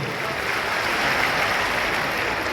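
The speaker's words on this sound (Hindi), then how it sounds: "जोरदार तालियां बजाओ" Sustained, roaring applause from a large crowd at the Bundelkhand festival at Bageshwar Dham, a thick continuous wash of clapping with no gaps.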